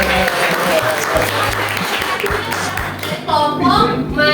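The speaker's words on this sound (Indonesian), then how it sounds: "Tepuk tangan dulu." Classroom applause during a microteaching practice lesson: a burst of students' clapping mixed with lively young voices chattering, loud and close, with voices rising toward the end.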